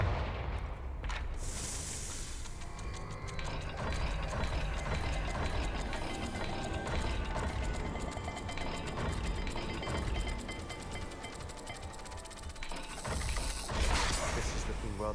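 A stone gate mechanism grinds open inside Salazar Slytherin's maze in Hogwarts Legacy, with sustained dense ratcheting and gear clatter, steady and loud throughout, plus heavy low rumbles and a brief dip and surge near the end.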